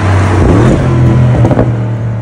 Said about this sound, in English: And you get a louder exhaust.